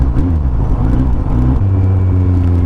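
A Kawasaki Z800 motorcycle exhaust gives off a low, steady rumble that rises and falls in pitch as the engine revs, loud and close, with no talking.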